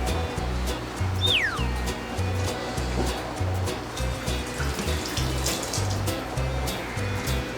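Hot water being poured while making pizza dough in a home kitchen, a steady splashing rush that runs continuously for several seconds under a low rhythmic background hum.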